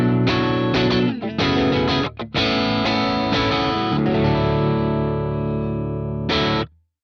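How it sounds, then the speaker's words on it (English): Electric guitar played through the Archetype: Plini X amp's second, higher-gain distorted channel, with controls at noon: a loud, saturated riff of chugging palm-muted chords and short breaks, ending on a sustained ringing chord, then a final stab that cuts off. "This has a bit more gain on tap and is really good for more pushed, distorted sounds"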